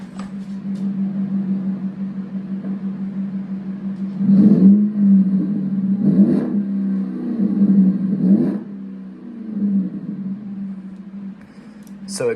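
A truck with a 4.7L Magnum engine and the muffler cut off idles with a steady low drone, revving up in three distinct bursts and easing back each time, heard up close with no talking.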